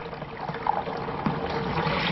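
Water trickles and gurgles as it is pumped by foot through a carbon filter system, a steady close stream with small splashes and occasional louder surges, no voices.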